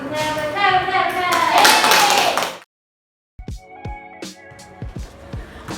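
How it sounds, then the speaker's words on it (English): Students in a classroom clap during a mathematics lesson, first under a burst of lively talk, then after a brief silence as sharper, scattered individual claps ringing close by. "Clap."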